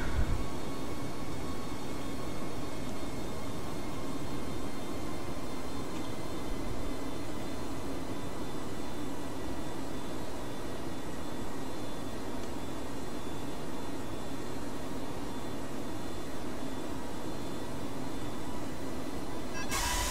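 A Boeing 757-200 rolling down the runway after touchdown in Microsoft Flight Simulator X gives a steady broadband roar of engine and rumble that holds evenly throughout and ends with a brief click.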